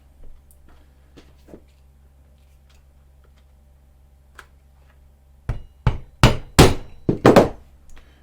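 Leather stitching chisel struck with a hammer into a leather coin wallet: a few faint taps, then a quick cluster of about eight solid, close knocks in an uneven rhythm.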